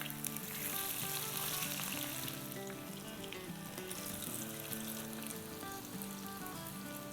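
Potato hashbrown kababs fry in hot oil in a pan, giving a steady, dense crackling sizzle that stays even throughout, close but fairly quiet, with no voices.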